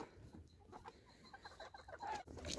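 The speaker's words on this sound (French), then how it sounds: "Bah, tiens, une poule rousse." A small red hen clucks softly in a park at dusk among other poultry settling for the night, quiet scattered clucks with a brief louder call near the end.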